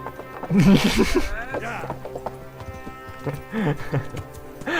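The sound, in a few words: horse hooves walking in Kingdom Come Deliverance video game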